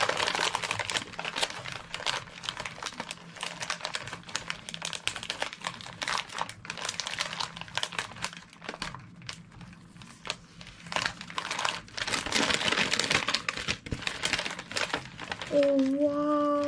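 Wrapping paper crinkles and rustles as a wrapped holiday gift is carefully unwrapped, close and continuous, with a voice speaking briefly near the end.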